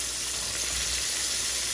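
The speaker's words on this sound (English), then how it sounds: "After I did that, I dipped it in the protein powder, and now I'm frying it." Chicken tenders coated in mustard and protein powder fry in hot oil, giving a loud, continuous sizzle and hiss with no talking.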